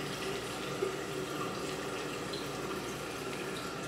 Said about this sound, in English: I literally take the water and rinse it right off